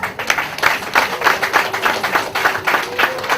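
Wedding guests applauding a speaker, a short burst of rhythmic clapping from a nearby crowd that is steady and fairly loud throughout.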